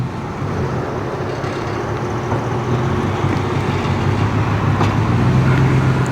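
Vehicle backing a trailer in beside a small Quonset, a steady low engine rumble at moderate distance that swells slightly toward the end.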